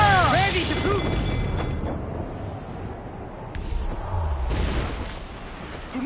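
Ship cannons firing in the video game Assassin's Creed IV Black Flag during a naval battle, with a couple of deep booms and rumbling blasts mixed into busy game sound and shouted voices.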